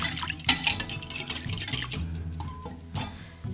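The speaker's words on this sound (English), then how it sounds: "we're going to give that a little whisk" Raw apple cider vinegar containing mother is whisked in a bowl, giving quick close-up clinks and light sloshing strokes at an uneven rhythm.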